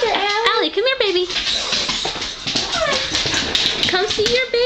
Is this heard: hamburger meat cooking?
no